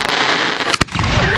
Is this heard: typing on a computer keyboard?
no